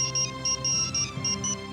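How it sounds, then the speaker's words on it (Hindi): A mobile phone ringtone rings in a home, a bright electronic melody in short repeated bursts about every quarter second, moderately loud with faint background sounds beneath. "ए, हमारा मोबाइल बज रहा है।"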